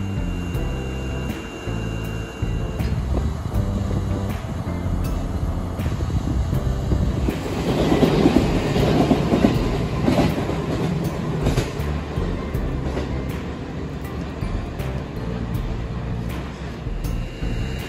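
A locomotive-hauled train rumbles past on the Chuo Main Line in Japan with a steady clattering roll, swelling louder midway and then easing off as the cars keep rolling by.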